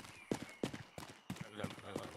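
Horse hooves clop in quick, rhythmic strikes as a horse moves in the medieval video game Rustler, close and fairly loud, with a few separate thuds in a galloping pattern.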